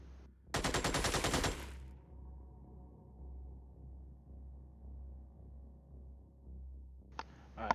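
Automatic gunfire from the turn-based tactics game Xenonauts: one loud, close burst of about a second, then a low steady hum, with a short second burst near the end.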